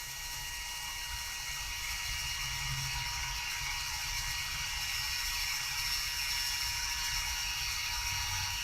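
A Mark 5 machine, guided by hand, cuts 1/8 inch acrylic in a single pass, giving a constant, close mechanical whine with a high tonal hum and rattling gear-like texture that holds steady throughout, with no talk.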